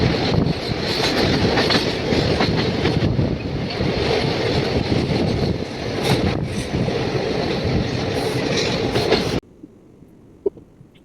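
A train rolls along the rails with a loud, dense roar and rattle, steady for about nine seconds before cutting abruptly to near silence.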